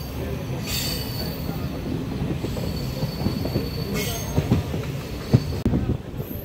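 A Kurnool City to Guntakal DEMU passenger train rolls along, with rumbling wheels, rhythmic clatter and occasional squeals, heard from inside at a steady moderate level.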